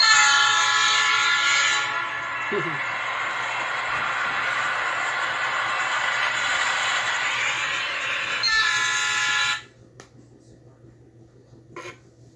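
A passing train sounds a long, loud, steady horn blast for most of the clip, with rumbling rail noise beneath, before the horn cuts off and only faint background remains.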